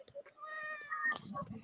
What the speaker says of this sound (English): I heard the meowing.